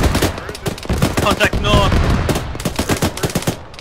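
Rapid autocannon bursts from a BMP in a military video game, loud, close repeated heavy shots in fast volleys with voices calling out contacts over the firing.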